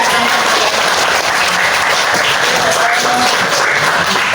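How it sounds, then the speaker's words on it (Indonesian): Classroom of students clapping on request, loud, dense and continuous applause close by that fills the whole moment without talk. "Oke, beri tepuk tangan dong."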